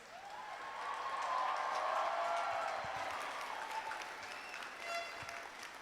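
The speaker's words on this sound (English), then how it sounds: "Let's have a round of applause for our graduates." A graduation ceremony audience at United Palace applauds the graduates, a dense, steady wash of clapping that swells in the first seconds and holds strong throughout, with faint crowd voices mixed in.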